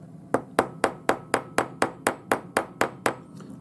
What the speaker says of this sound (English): we go on a steel block and use our little riveting hammer